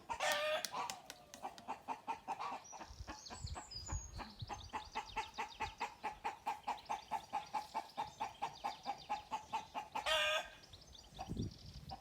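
Chickens and chicks cluck steadily near a shed, a rhythmic run of close clucks lasting most of the stretch, with a few higher chirps and louder calls at the start and end, no talk.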